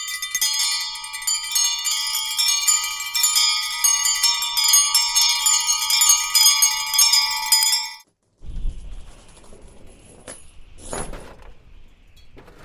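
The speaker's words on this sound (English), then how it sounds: "As he observed the bell, it began to swing." An old, disused bell rings in a radio drama of A Christmas Carol, a steady bright ringing for about eight seconds that cuts off abruptly, followed by faint clatter and quiet.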